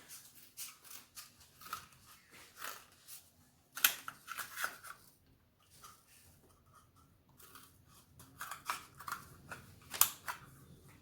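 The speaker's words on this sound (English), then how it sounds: "You need scissors to cut 2 toilet paper rolls." Scissors snip through cardboard toilet paper rolls in a series of irregular crisp cuts and crunches, close and fairly quiet, with pauses between.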